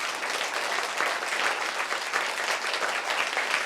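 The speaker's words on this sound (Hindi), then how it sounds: "आप मेरे लिए भी तालियां बजा सकते हैं।" Audience applause at a Buddha Vihar community quiz event, a dense, steady clapping from a crowd that carries evenly throughout, close and moderately loud with no speech over it.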